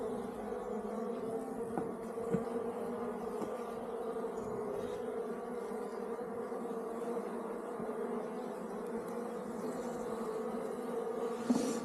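Honeybees buzz steadily at an open beehive, a dense continuous hum of many insects close by with no pauses.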